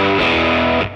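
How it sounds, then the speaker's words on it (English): Light overdrive from a JAM Pedals custom multi-pedal guitar board, a sustained distorted electric guitar chord ringing loud and close for about a second before it starts to fade. "I have like this just light distortion."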